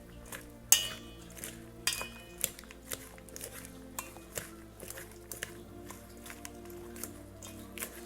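Utensils toss and fold Katuska salad in a bowl, giving a steady run of light clinks and scrapes against the dish with soft mixing squishes between, close and fairly quiet.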